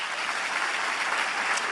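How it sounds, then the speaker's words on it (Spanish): A church congregation claps together in a steady, dense wash of applause, continuous and fairly loud throughout. "Un aplauso a Cristo"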